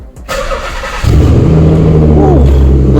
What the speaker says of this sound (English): Ooh, listen to that cold start.